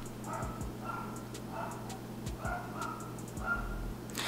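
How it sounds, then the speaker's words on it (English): A dog outside a Houston apartment barks and yips in short repeated bursts, about half a dozen at a fairly regular pace, moderately distant against a low background hum. "do y'all hear that dog?"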